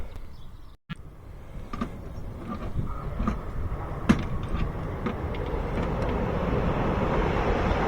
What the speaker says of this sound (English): Long Island Railroad.